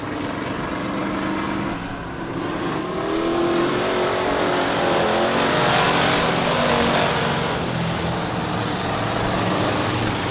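Stock car engines roaring at Honor Speedway during Mechanics Night, a dense sustained drone of several cars racing with steady loudness and swelling intensity, no voices.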